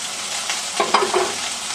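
Meat searing in a hot pan, a steady broadband sizzle with a few brief louder crackles and spatters near the middle, close and moderately loud, no talking.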